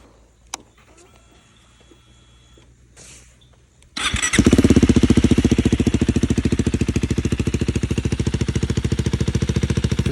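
KTM Adventure 390 Gen 2 motorcycle with a modified exhaust, dB killer still fitted, starts after a few seconds of quiet handling noises and then idles loud and close with a fast, steady thumping pulse.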